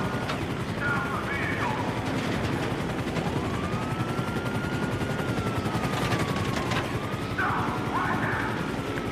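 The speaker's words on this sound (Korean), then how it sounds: "이걸로 헬기도 좀 박살내볼까?" Gunfire aimed at a helicopter in the video game GTA 5, with rapid, dense shots crackling continuously over a steady rotor and engine drone, loud and close, with a brief voice partly under it.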